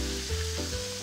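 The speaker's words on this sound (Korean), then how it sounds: "이렇게 이제 지글지글 끓기 시작을 하면" Ground meat sizzling and frying in a hot, well-heated pan while mapo tofu is being made, a steady close crackle with no talking.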